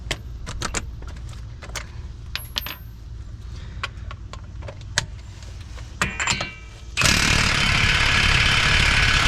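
An impact gun on the lug nuts of a Toyota Highlander, fitted with a 30 mm 12-point socket, lets out a loud, steady hammering burst near the end, after scattered metallic clicks and taps.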